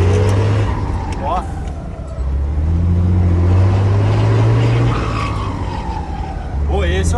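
Loud truck engine pulling hard through the gears on a road trip, with a rising turbo whistle over the steady low drone, close and continuous, with a voice talking over it.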